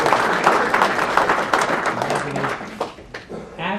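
An audience at a township council meeting bursts into applause, dense clapping from many people in a hall that thins out toward the end, with some voices mixed in.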